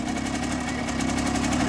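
A vintage MZ Jaskółka motorcycle engine idles steadily at a vintage motorcycle rally, with a rhythmic, buzzy putter, continuous and close, with no talk over it.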